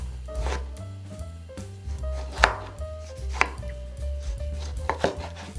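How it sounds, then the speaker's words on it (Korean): Two tomatoes being diced into large cubes with a knife on a board, a run of close, uneven chopping thuds and taps with a few sharper knocks, no speech. "토마토는 2개, 그냥 아무렇게나 크게 깍둑 썰어주세요."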